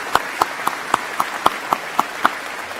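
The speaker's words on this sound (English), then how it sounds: "I'd like to extend one more round of applause for all of our award recipients." Applause at the 2019 Utica graduate commencement comes through as a string of about nine crisp, evenly spaced claps, a steady rhythm heard close and distinct.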